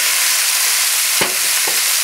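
Sausage, peppers, onions and tomatoes fry in a hot pan with a steady, dense sizzle, broken by a couple of brief clatters as the food is stirred.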